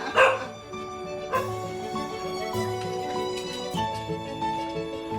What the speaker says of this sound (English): It's me you're barking at.